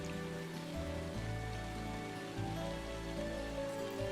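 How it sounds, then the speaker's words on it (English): Steady rain falls in The Legend of Heroes: Trails of Cold Steel, a continuous even wash of rainfall mixed under a low game music bed, with no voices. "we're standing in the rain, and it's pretty epic"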